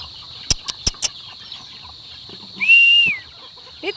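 Chickens and chicks at feeding time on a farm, with a few sharp knocks, soft clucking and a high, drawn-out call, near and fairly loud, with no talk.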